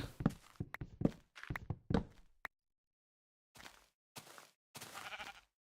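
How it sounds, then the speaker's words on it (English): Sheep in the video game Minecraft bleat in short bursts, a quick cluster of nearby baas and thuds followed by silence and then three more separate bleats. "Lots of sheep here, excellent."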